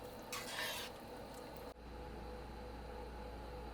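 Cheese being stirred into a pot of potato soup with sausage until melted, a soft scraping swirl at first, then a quiet steady simmering hiss, faint and close.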